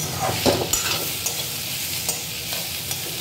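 Watermelon with plenty of green chilli stir-fries in a pan, a steady close sizzle broken by scraping stirs and a few sharp clacks of the spatula against the pan, no talking.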